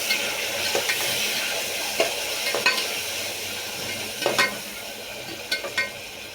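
Chopped tomatoes and coriander leaves sautéing in hot oil, a soft steady sizzle broken by several sharp scrapes and clinks of a spoon stirring the pan, close and alone.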